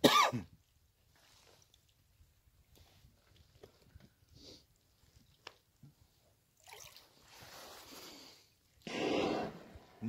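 Orcas (killer whales) surfacing in Nagaev Bay, one adult close by, with a loud hissing blow near the end and a softer, breathier exhalation a couple of seconds earlier, heard from shore over quiet water between faint sounds.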